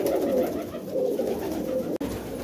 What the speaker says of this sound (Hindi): जो वाइट बार फीमेल है, प्लेन कबूतरी है